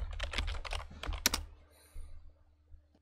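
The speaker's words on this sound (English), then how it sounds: "and I'm going to type in binocular." A computer keyboard typed on in a quick burst of close, crisp key clicks followed by a final sharp keystroke, then near silence with a faint hum.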